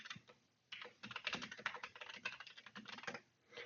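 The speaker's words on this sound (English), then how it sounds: "I can type in whatever I want." Rapid, steady computer keyboard typing into a login form, close and clear, continuous bursts of keystrokes with brief pauses, no voices.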